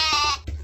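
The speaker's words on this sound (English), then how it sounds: "That's right! It's a sheep!" A single sheep bleats loudly and close up in a children's cartoon farm-animal quiz. The wavering, nasal call is heard on its own with no voices.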